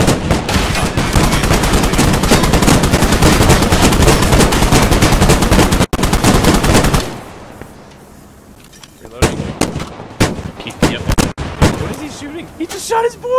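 Heavy sustained automatic gunfire in a vehicle combat video game, loud and continuous for several seconds, then dropping away before scattered sharp single shots and bursts follow.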